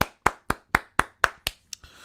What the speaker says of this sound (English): clap it up for Apple.